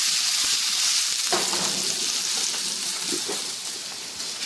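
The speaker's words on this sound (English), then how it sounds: "And just saute these and get them nice and soft." Mushrooms sauté in a pan for bunless burgers, giving a steady, close, broadband sizzle with a few soft scrapes of stirring partway through.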